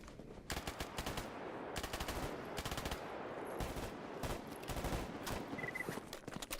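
Rapid automatic gunfire in a video game, repeated bursts of machine-gun fire rattling almost continuously at steady volume, with no voices over it.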